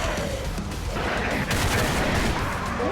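Dense, continuous gunfire and booming blasts from the retro 16-bit style game Brutality Testing, a loud unbroken barrage filling the whole stretch with no pauses.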